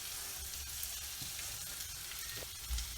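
Ginger, garlic and chopped capsicum sautéing in a pan, a soft continuous sizzle and crackle with faint stirring scrapes, quiet and steady with no voices.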